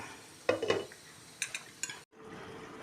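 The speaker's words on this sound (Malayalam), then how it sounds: "കറിവേപ്പില ഇട്ട് ഒന്ന് ഇളക്കി ഒന്നും കൂടി മൂടി വെച്ച് വേവിക്കാം." A spoon stirring fish curry with curry leaves in a pot: a few soft clinks and scrapes in two short bursts, quiet and close, with a faint simmering hiss underneath and no talk.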